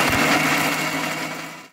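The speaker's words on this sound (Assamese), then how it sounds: "এইখিনি আমি এতিয়া মিক্সাৰত গ্ৰাইণ্ড কৰি লওঁ" Kitchen mixer grinder whirring as it grinds tomatoes, cloves, cardamom and green chilies into a paste; a loud continuous motor whine that winds down and cuts off at the end.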